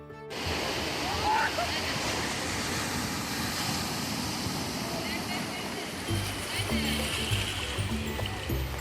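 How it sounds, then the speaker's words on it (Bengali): Sea waves washing onto Digha beach, a broad continuous roar of surf with rising water, heard steadily across the whole stretch, moderately loud and unbroken. "জলের ঢেউ বাড়ছে ক্রমাগত"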